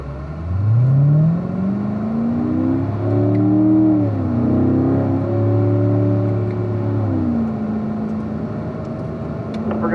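A race car on a track accelerates up through the gears, its engine note climbing, dropping at a shift and climbing again in a loud, close whine.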